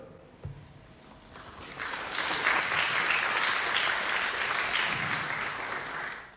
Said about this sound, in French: vous pouvez applaudir notre trésorier magicien